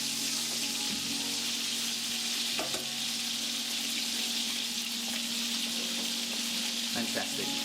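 Loud, continuous sizzling of steaks frying in a hot pan, with a few soft clinks and scrapes along the way.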